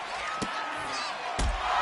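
Two sharp slamming impacts from a jawbreaker move in WWE 2K24, the second heavier, over a steady arena crowd murmur.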